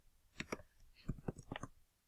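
Scattered clicks of typing on a computer keyboard, a few quick keystrokes in small irregular bursts, close and fairly quiet.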